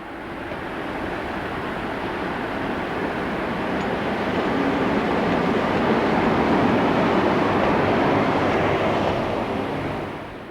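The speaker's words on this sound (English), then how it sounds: "Arriving with the train from Strasbourg is" SNCF BB12000 electric locomotive 12077 arriving with a train from Strasbourg, hauling wagons: a steady, broad rumble of rolling stock that swells midway and holds loud before easing off at the end.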